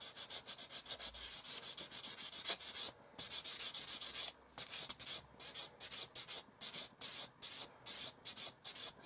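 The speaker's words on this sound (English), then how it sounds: "a bit of rough sanding first with this 4 model sander sponge" Rough sanding of a seam on a 1/72 scale Airfix de Havilland Mosquito plastic model kit with a sanding sponge: close, steady rasping back-and-forth strokes, continuous at first and then breaking into shorter rhythmic passes.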